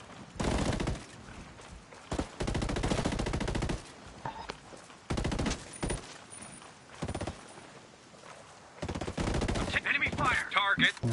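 Rapid bursts of gunfire from the video game Red Dead Redemption 2 on PS5, sharp repeated shots in several loud volleys separated by short pauses, with brief game sounds between.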